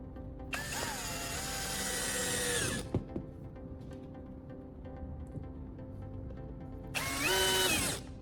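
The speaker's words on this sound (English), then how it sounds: "I secured the smaller upright board by drilling it with screws to the hinge." Power drill driving screws through a board into a hinge: a loud whirring burst of about two seconds, a pause with a light knock, then a shorter second burst near the end.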